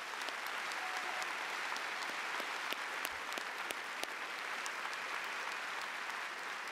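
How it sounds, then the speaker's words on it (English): Steady, fairly faint round of applause from a high school ceremony audience honoring National Honor Society students, an even wash of many hands clapping throughout with a few louder nearby claps. "Please recognize them with a round of applause."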